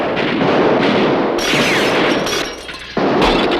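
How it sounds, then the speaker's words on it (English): Gunfire rattles through a hotel in a 1984 Lucky Luke cartoon episode. Loud, dense bursts of shots and crashing impacts run almost continuously, dropping briefly before a final blast. "That baby Sam's shooting up my hotel."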